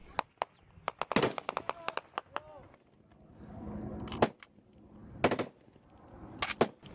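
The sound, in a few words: gunfire during Marine firefight with Taliban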